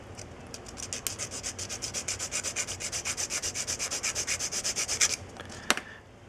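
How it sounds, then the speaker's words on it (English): Rhythmic back-and-forth sanding of small plastic parts from a 1/72 scale German E-75 walking tank model kit, about thirty quick even strokes at close range, ending with a couple of sharper taps. "you can just take a sander and just sand just a little bit off of each side like that"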